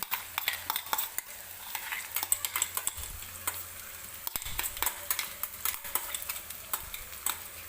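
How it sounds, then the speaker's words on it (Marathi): A paste of ground coconut, ginger, garlic and coriander frying in oil with onion and tomato for egg curry, sizzling steadily with frequent scraping stirs and light clinks of a spoon against the pan, close by. "हे वाटण टाकल्यावर सुद्धा आपल्याला तेलामध्ये व्यवस्थित कांदा टोमॅटो सोबत भाजून घ्यायचं आहे"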